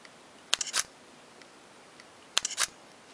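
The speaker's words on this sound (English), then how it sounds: "One thing I've found annoying with this camera is the fake shutter sound it makes." Sony A5000 camera shutter, two quick bursts about two seconds apart, each a cluster of close, crisp mechanical clicks mixing the real and fake shutter sounds.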